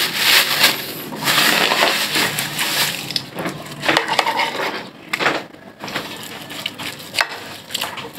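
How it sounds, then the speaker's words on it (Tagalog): Knife slicing sweet cured hamonado on a board, a run of crunchy cuts with irregular clicks and scrapes, close and fairly loud with no talking. "hiwain muna natin siya ng saktong hiwa lang at katamtaman lang"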